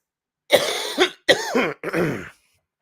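Three close, harsh coughs follow one another in quick succession, each rough and throaty, from a person bringing up phlegm, with near silence before and after.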